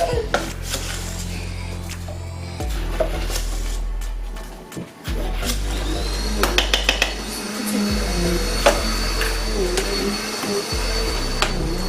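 Household vacuum cleaner running close by with a loud steady low drone that drops out briefly a few times as it is moved, over clattering bumps and a few quieter voices.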